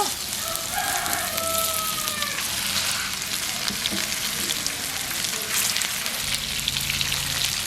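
Fish frying in boiling oil makes a continuous bubbling crackle, while a rooster crows in the background partway through.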